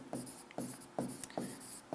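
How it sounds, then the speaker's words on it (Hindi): Chalk or marker strokes on a board during a maths lecture on determinants: rhythmic scratchy writing in short repeated bursts, close and fairly loud, with no speech over it. "ये बात लिख देता हूं"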